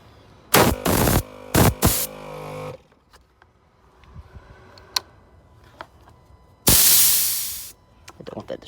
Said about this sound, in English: I'll just use this air sprayer here to demonstrate